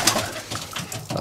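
Pigeons coo softly in a loft in early autumn, making low, overlapping repeated calls close by among faint rustling.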